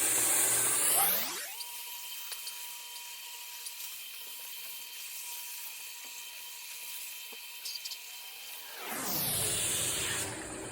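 A 120-grit sandpaper strip pressed against a spinning metal gate part on a lathe to strip off scale, a steady high whirring hiss with faint scratchy ticks, framed by the machine's motor winding up at the start and down at the end.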